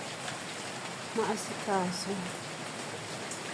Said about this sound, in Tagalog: Malakas na naman ang ulan.